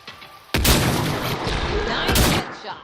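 Gunfire in the sci-fi shooter Mass Effect Andromeda, fought in alien ruins on Raelis: a sudden loud crack and roaring burst, then a second sharp blast before the noise fades.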